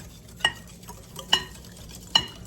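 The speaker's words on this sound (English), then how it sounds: "We're gonna give this a stir." A spoon stirs a seasoning mix of onion powder and pepper in a bowl, three distinct clinks spaced about a second apart against quiet, soft scraping between them.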